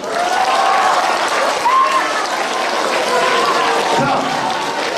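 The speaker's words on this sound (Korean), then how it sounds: "파이팅! 박수!" Middle school students at a special lecture applaud loudly and continuously, with crowd voices and shouts mingling into the clapping.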